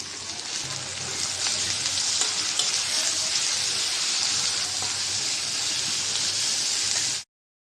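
Tomatoes and green chilies frying with onions in a pan, a steady loud sizzle and hiss that runs unbroken with faint stirring, then cuts off abruptly near the end.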